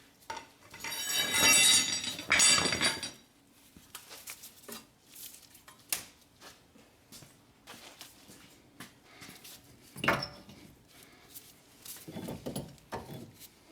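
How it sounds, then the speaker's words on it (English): Metal clanks and scraping as a drive axle is pried out of its inside joint on a Toyota Avalon during a repair for a torn, grease-leaking boot, with a loud grinding burst early followed by scattered sharp knocks. "So I am prying the drive axle from the inside joint."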